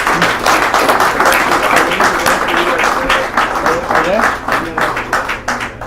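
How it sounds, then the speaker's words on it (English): Audience applause for someone speaker at a political gathering, a loud, continuous patter of clapping that carries on throughout, with some voices mixed in. "go ahead and give her a round of applause"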